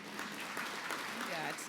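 A crowd claps and cheers in a brief, dense burst of applause, with voices mixed into the noise.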